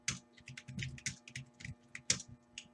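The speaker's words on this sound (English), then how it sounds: "God, I can't type now." Quick, uneven typing on a computer keyboard, close and crisp, with clusters of key clicks and short pauses between bursts.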